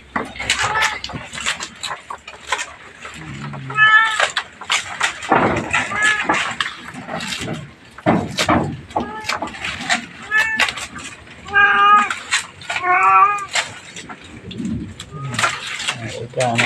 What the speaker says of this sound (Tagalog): Ayan natin pusa natin ito sa kulungan.